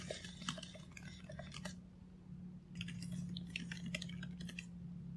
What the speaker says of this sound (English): Keyboard sounds exactly the same as the MacBook Pro.